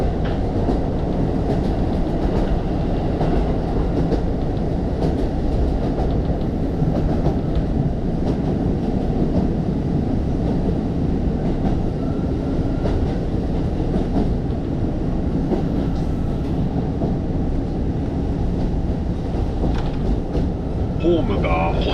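A train on Japan's Rumoi Main Line runs toward Ishikari-Numata station after crossing a truss bridge, a steady loud interior rumble of wheels on rail that continues throughout, with a faint clatter of the railcar.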